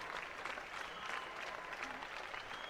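A crowd at a New Zealand versus South Africa third-place match applauds the home team: steady, distant clapping for about three seconds, with no voices.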